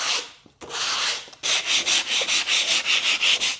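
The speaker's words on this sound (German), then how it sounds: "30er Schleifpapier." Coarse 30-grit sandpaper rubs across a wooden balance board in a workshop, making a loud, close, rhythmic series of rasping back-and-forth strokes after a couple of brief initial passes.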